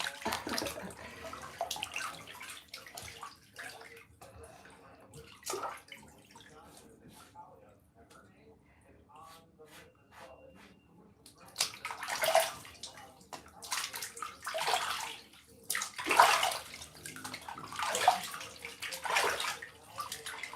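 Bath water sloshes and trickles in a filled bathtub with candle wax floating on the surface, in soft intermittent splashes that grow louder and busier toward the end, with a voice talking at times.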